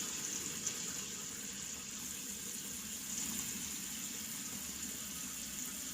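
Running water from a tap flows steadily and softly for the whole stretch while a face is rinsed at a sink, with no speech.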